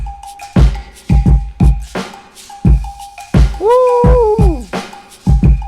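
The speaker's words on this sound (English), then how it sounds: "So the drums are smacking, they sound like this." A lo-fi hip-hop drum beat with a punchy kick, snappy snares, bells, shakers and a rain stick, plus a gliding pitched synth swoop partway through, loud, close and steady in rhythm, with no talking.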